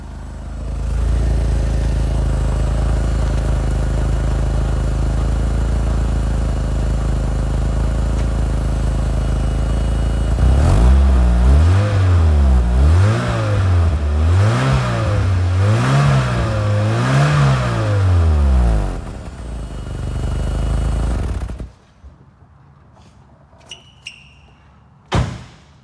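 A 1985 Pininfarina Spider Europa engine runs steadily, then revs up and down several times in rising and falling swells before cutting off, followed by a few clicks.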